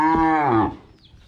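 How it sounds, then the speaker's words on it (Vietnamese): A Sind crossbreed or Charolais cow moos once at a cattle sale, a loud, close, sustained low call lasting under a second that falls off at the end. "con bò này đầu chuỗi nữa nha"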